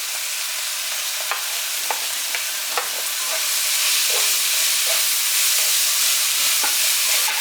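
Garlic and chili paste stir-fried in oil in a pan for Korean chili seasoning, a steady close sizzle broken by repeated scrapes and taps of the utensil, with no voices.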